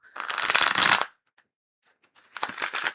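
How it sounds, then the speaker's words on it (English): Tarot cards being shuffled in two bursts of rapid, crisp riffling close up, separated by a near-silent pause with only faint handling clicks. "Ooh, that was a very good shuffle."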